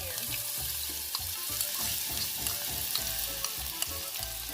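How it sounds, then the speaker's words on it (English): Onions dropped into warm oil on medium-high heat sizzle and crackle steadily and fairly close, a continuous frying hiss with occasional stirring scrapes, no voices. "And now I'm going to go ahead and add my onions in"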